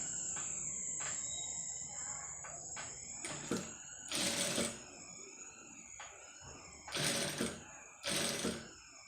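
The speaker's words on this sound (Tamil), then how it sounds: "அந்த 1/4 இன்ச்சி அளவுக்கு அப்படியே வச்சு தைக்கிறேன்" A sewing machine stitches invisible thread piping in several short bursts, fairly loud over a quiet background with a steady high insect-like whine.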